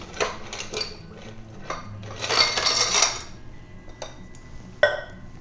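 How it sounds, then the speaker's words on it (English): Ice dropped into a cocktail mixing glass, scattered glassy clinks and rattles in a few bursts, close and fairly loud, with a final sharp clink and no talk. "Add the ice."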